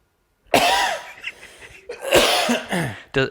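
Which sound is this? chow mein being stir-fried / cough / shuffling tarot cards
cough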